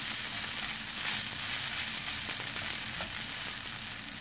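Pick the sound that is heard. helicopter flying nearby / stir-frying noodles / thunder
stir-frying noodles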